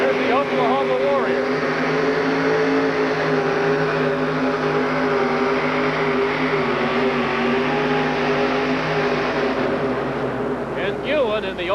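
The Oklahoma Warrior, a two-wheel-drive truck with a 572 cubic inch Chevrolet engine at a 1987 USHRA motorsport event in Minneapolis, drones and revs steadily in the distance beneath continuous announcer commentary.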